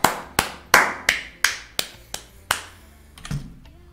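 About eight sharp, evenly spaced claps from one or a few people, close and crisp, slowing slightly before trailing off into a faint knock.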